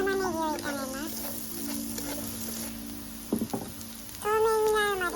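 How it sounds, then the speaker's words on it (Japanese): Onions stir-frying in oil in a pan give a steady low sizzle with a few soft knocks of stirring, under a melodic tonal sound at the start and end. "油をひいたら 玉ねぎを炒めます。"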